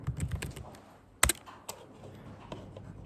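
Computer keyboard typing, a few scattered soft keystrokes with one sharp louder clack, fairly quiet and close, in a lecture setting.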